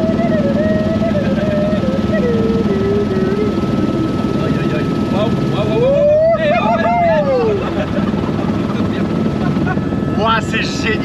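Helicopter in flight makes a loud, steady rotor and turbine roar close by, with a whine that rises and falls, while people talk excitedly over it.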